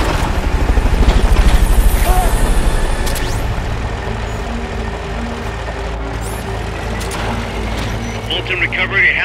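Helicopter from Metal Gear Solid Peace Walker, a loud heavy rotor thump and engine roar that stays close and constant, mixed with other game noises and brief clanks.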